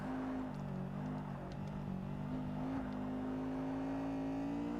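A race car in Forza Motorsport brakes and slows, its engine drone holding steady and dropping slightly in pitch, continuous and close with no talk.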